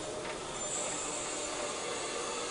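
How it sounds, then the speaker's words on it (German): Mallet steam locomotive 99 5906 pulls into Gernrode on the narrow-gauge Selketalbahn in the Harz with a train for Hasselfelde. A steady, fairly loud broadband hiss of steam and rolling stock runs throughout, with no voices. "99 5906 mit ihrem Zug nach Hasselfelde."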